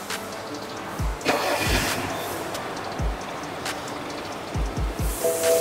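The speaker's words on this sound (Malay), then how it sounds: "So yang ni kita buat cranking test pula untuk dia punya starter motor." A car's starter motor cranks the engine during a cranking test, giving several short, low whirring bursts over a steady background hum, fairly close and moderately loud, with no voices.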